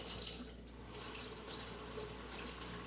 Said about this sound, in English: Let me put some warm water on my hands, guys.